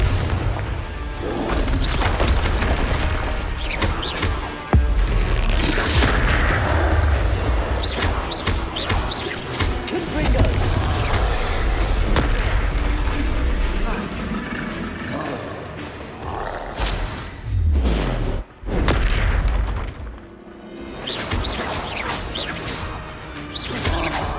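Confringo explosive spell blasts in the Hogwarts Legacy video game, heavy booms and crashes with whooshing roars piling up loud and dense throughout, briefly dipping before erupting again.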